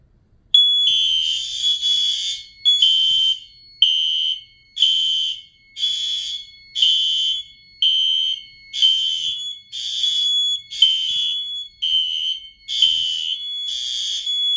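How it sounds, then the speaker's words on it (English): Fire alarm sounder going off during a fire alarm system test, a loud, piercing electronic tone pulsing in a steady on-off pattern, about a dozen regular bursts with no talk. "This sounder does not silence when you press the alarm silence on the panel."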